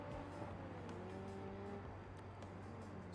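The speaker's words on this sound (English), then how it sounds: "those cars are so loud up there" Race car engines roar steadily in a destruction derby video game, a continuous drone of several motors with shifting pitch and faint passing tones, heard from some distance and without any talk.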